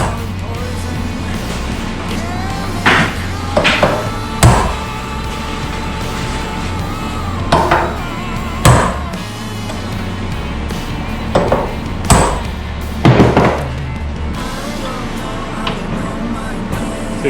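Sharp hammer taps staking screws during assembly of a 4.0 engine, a dozen or so separate strikes in small clusters over a steady background hum.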